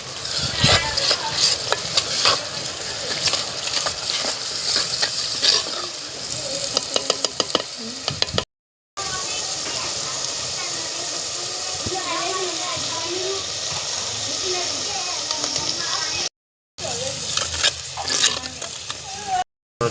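Tomatoes sizzle steadily in a pan for a jackfruit curry while a spoon stirs and knocks against it, close and continuous, with a few brief breaks.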